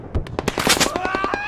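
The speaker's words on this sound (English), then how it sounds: "That felt like a machine gun." Rapid machine gun fire in a video game, a quick burst of sharp close shots in uneven rhythm followed by a rising tonal whine.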